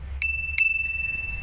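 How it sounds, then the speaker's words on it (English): A small bicycle bell on a 48V Eco Drive 2.0 e-bike rings twice in quick succession, bright clear dings with a lingering metallic ring over faint low background hum. "Now we have this cute bell over here,"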